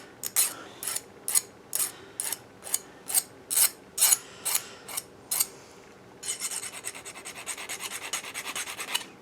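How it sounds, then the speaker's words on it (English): A hand file rasps a burr off a cut bolt end in about a dozen short, regular strokes, then shifts to a quicker continuous scraping, close and fairly quiet. "Hit them a lick with a file, you mean? Just to take off the burr so it'll thread easy"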